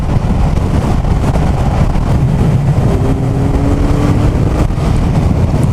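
Kawasaki Zephyr 1100 cruising at 70 mph around 4,500 rpm, a steady loud engine drone buried in heavy wind buffeting, constant throughout with no talk.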